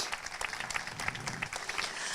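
Audience applause at a ribbon cutting ceremony for a family hub, a dense patter of many hands clapping steadily throughout, moderately loud and sustained.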